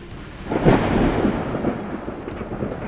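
Thunder from a night lightning storm over Denver rolls in as a deep, loud rumble that swells near the start and slowly fades into a lingering low roar, with no voices.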